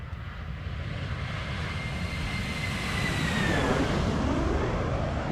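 A Spirit Airbus A319 with IAE engines does a flyby in the flight simulator X-Plane 12, a steady loud jet roar with a rising and falling whine that swells toward the end.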